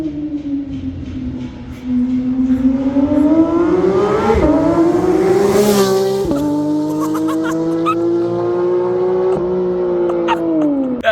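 A Porsche 911 GT3 engine revs hard and close, its high mechanical pitch climbing and holding through sustained throttle with gear-like steps and brief drops.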